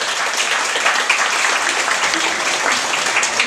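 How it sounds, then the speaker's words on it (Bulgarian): A crowd at a product presentation for BIOEFFECT EGF serum applauds a doctor, with steady, dense clapping filling the room without pause. "аплодисменти"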